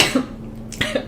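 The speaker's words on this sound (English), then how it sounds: "she coughed on it" A woman gives two short, sharp coughs close to the microphone with a brief pause between them.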